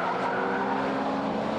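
Front-wheel-drive sports cars, including an Integra Type R, FTO, Prelude and a turbocharged Fiat Coupe, race into the first corner after the start, a dense continuous roar of several engines with a hint of tire noise and no voices.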